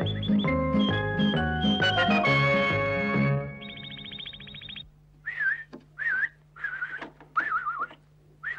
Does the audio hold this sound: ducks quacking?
no